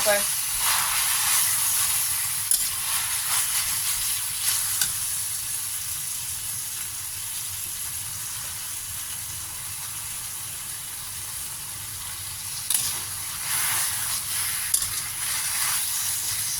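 Chinese kale and canned fish stir-fry in a hot pan, giving a steady hiss and sizzle with occasional scraping and stirring bursts; the sizzle fades slightly midway and then picks up with more stirring near the end.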